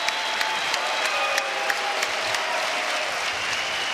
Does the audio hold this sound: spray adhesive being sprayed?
no